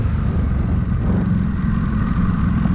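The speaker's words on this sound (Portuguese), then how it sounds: "E o motor dela não tem fim também, gira demais." A Ducati Supersport S motorcycle engine on a test ride, a loud, steady, close-up drone of the engine running at high revs, with no talking.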